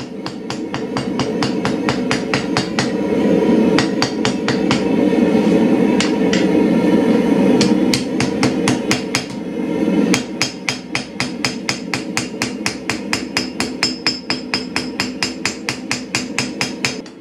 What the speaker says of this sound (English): move on to hammer in the bevels